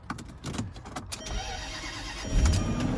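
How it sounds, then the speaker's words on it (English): A supercharged Range Rover's engine runs at a low, rumbling idle, with a few clicks and clunks of handling before a throaty swell rises near the end, heard fairly close. "You hear that supercharger?"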